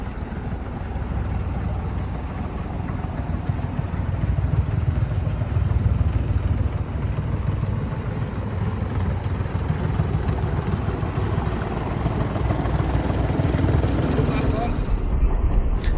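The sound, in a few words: narrowboat engine chugging along canal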